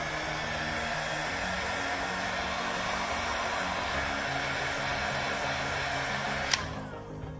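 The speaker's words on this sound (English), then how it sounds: "what we're gonna wanna do is blow a little bit of heat because this has a little bit adhesive inside of it." A heat blower warms the adhesive under a Samsung Galaxy S21 Ultra screen, a close, even rushing hiss that holds steady throughout and ends with a light click near the finish.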